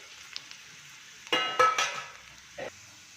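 Garlic, cumin, curry leaves and grated coconut hit hot oil in a pan, giving a few short bursts of sizzling and crackling before fading to quiet, heard up close with no talking.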